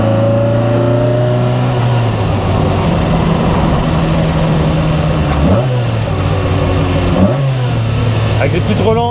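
A Lotus Exige S1 engine drones under load, then blips sharply twice during heel-toe downshifts, each rev rising and falling quickly. The engine is loud and close from inside the car.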